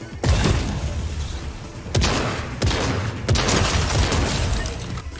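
Gunfire in the battle game Fortnite, loud close bursts of rapid shots arriving in four separate volleys with brief pauses between them.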